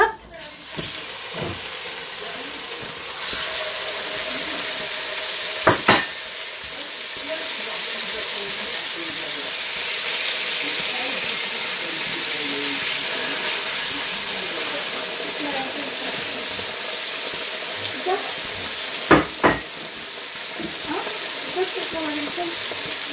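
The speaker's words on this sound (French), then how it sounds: "Donc dans votre poêle bien chaude, vous les faites revenir." Garlic cloves and meat sautéing in a hot frying pan while pasta alla Norma is being cooked: a continuous even sizzle and crackle, with a couple of sharp utensil knocks against the pan and someone talking over it.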